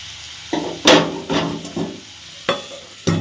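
Salt, turmeric and five-spice seeds go into hot oil for a village fish curry, making sharp bursts of sizzling and spattering, with stirring clatters in an uneven rhythm, close and fairly loud.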